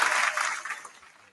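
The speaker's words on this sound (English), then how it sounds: "Clap for that." A small group of people clapping, a short burst of applause that starts loud and fades away over about a second, with no speech.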